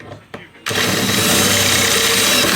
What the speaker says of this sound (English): So now what you want to do is you want to drill each corner